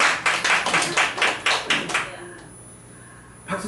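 A congregation at a church worship service claps in rhythmic unison, about ten sharp, evenly spaced claps, then stops and falls quiet.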